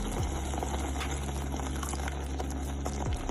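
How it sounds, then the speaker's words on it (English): Water is poured into a pan of simmering cauliflower curry gravy, giving a steady bubbling, sizzling hiss that fills the whole moment at close range; no voices are heard. "Let's add in half a cup of water."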